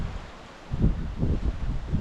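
Strong wind gusts rumble across an outdoor microphone and rush through trees, rising and falling in low, buffeting waves.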